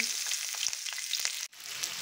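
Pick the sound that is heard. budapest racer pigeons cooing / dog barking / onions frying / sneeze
onions frying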